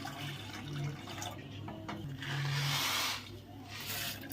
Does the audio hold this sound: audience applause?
no